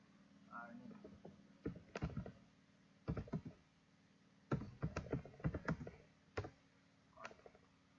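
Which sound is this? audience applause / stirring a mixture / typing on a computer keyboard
typing on a computer keyboard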